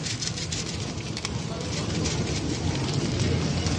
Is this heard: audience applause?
no